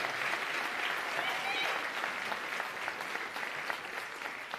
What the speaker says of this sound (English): Round of applause, please, for Cape Town Opera.